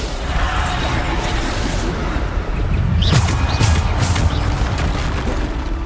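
A Bombarda explosion spell goes off in the Hogwarts Legacy video game, a loud booming blast with a crashing whoosh around the middle, set against steady, dense game noise throughout.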